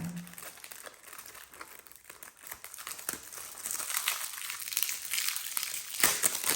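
A sealed plastic mailer bag being pulled and worked open, giving sustained crinkling and crumpling that grows louder toward the end, close up with no talking.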